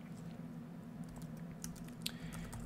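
Quiet typing on a computer keyboard, a short burst of soft, irregular key clicks over a low steady hum.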